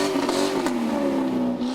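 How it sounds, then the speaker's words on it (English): Motorcade cars driven by KKK members revving their engines past counter-protesters at a park, a close, loud engine drone that climbs and dips briefly. "After revving their engines past the counter-protesters"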